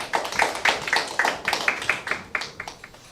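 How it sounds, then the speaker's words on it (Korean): Audience applause at a panel discussion event in Korea, a quick burst of steady clapping from a moderate crowd lasting about three seconds, fairly close and with no talking over it. "큰 박수 부탁드립니다."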